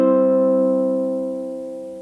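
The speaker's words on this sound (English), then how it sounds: "The first way to play this chord is to fingerpick all 4 strings at the same time." Ukulele chord with all four strings fingerpicked at once, sounding as a single sustained harmonic chord that rings out and slowly decays, clear and close with no talk.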